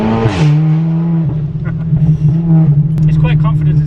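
A Seat Leon Cupra with a loud aftermarket exhaust rumbles steadily nearby as the driver lifts off and drops down to second gear, the engine note falling and then holding a low drone while someone talks over it.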